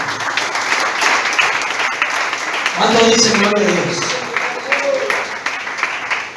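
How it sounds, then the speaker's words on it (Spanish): Church congregation applauding in praise during a sermon, a loud burst of many hands clapping that swells in the middle under and between a preacher's voice. "Aplauda que vive."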